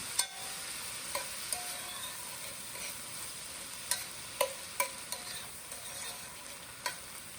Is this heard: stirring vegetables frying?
yes